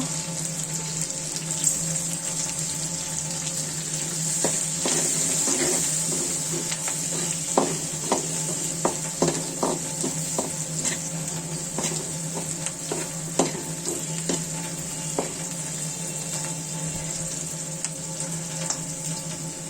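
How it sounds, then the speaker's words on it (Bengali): Onion, garlic and spices frying in hot oil for a taki fish dish, giving a continuous bright sizzle with scattered clicks and scrapes of a spatula stirring, close up with no voices. "পেঁয়াজ রসুন একটু ভালো করে ভেজে নিব"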